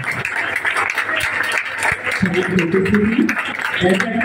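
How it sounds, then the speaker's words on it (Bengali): An audience at a farewell ceremony for teachers at a college claps to welcome guests to the stage, with steady applause running throughout under a voice speaking over a microphone. "আসুন সকলে করতালির মাধ্যমে আমরা আজকে তাদের সকলকে স্বাগত জানাই"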